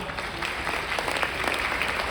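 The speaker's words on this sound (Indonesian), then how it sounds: "Bapak Ibu tepuk tangan untuk Bapak Ibu semua" An indoor audience at a gathering in Batam applauds with steady, moderately distant clapping that holds even throughout, with no one speaking.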